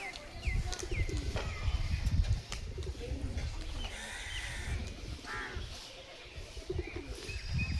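Pigeons at a friend's home loft flutter and call in a busy outdoor mix, soft coos and bird calls scattered over a dense low rumble of wings and movement, with some faint background voices.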